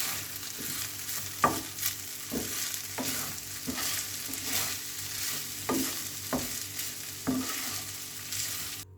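Chicken fried rice with crushed red chilli is stirred in a hot pan, a continuous frying sizzle broken by regular scraping strokes of the spatula about once a second, close and alone without talk.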